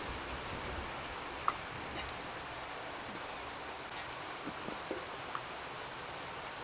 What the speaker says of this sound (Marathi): आता पाऊस पण चालू झालेला आहे, पटकन जावं लागेल.